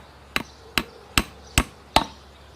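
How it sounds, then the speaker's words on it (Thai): Hammer driving a small nail into bamboo: five sharp, evenly spaced knocks about every 0.4 seconds, close and crisp, with quiet between strikes. "จะเป็นตะปูตัวเล็กหน่อยนะครับ ตอกง่ายเลยครับ"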